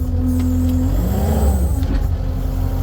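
A Kubota SVL75-2 compact track loader idles with a steady engine drone while its hydraulic lift arms move, bringing a brief rising and falling strain midway through.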